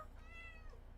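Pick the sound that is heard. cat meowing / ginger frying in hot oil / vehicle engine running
cat meowing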